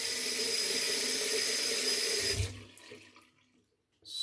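Water running from a tap while someone washes their face at a sink: a steady close splashing flow for a couple of seconds, then it stops, leaving faint drips and rustling.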